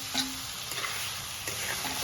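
Fried potatoes stirred into a simmering fish-head curry masala in a pan, a steady soft sizzle with a few brief scraping strokes of the spoon, close and continuous, no voices.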